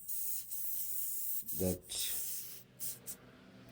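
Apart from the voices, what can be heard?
spraying paint stripper from an aerosol can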